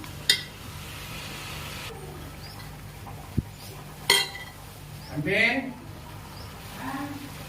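Country chicken with rock salt is stirred in a pot for kolambu: sharp metallic clinks of a spoon against the pot ring out a few times, spaced apart, over a quiet steady background while a voice speaks.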